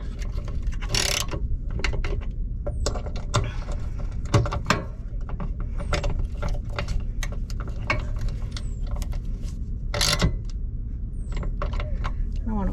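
Repeated ratcheting clicks from a wrench tightening bolts on a Kwikee RV entry step, steady mechanical clicking with a few louder clanks, under light talk.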